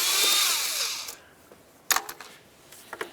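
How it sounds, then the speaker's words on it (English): An 8mm tool loosening a hose clamp near the throttle body of a Toyota RAV4 during knock sensor replacement: a whirring power-tool burst of about a second, followed by a few sharp clicks and a metallic clatter, close by and with no talk. "We're going to loosen up this clamp."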